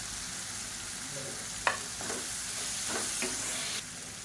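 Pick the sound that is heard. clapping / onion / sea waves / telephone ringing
onion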